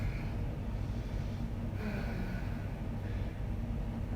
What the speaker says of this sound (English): Just take your moment here just to reconnect with your breath.